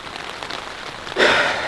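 Rain pattering on a tent in high mountain country during a mule deer hunt, a steady soft hiss that swells suddenly louder near the end.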